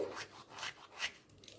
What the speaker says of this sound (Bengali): কালো জিরেটা আমি একটু ঘষে দিচ্ছি